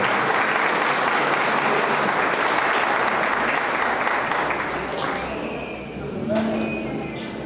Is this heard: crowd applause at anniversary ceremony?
yes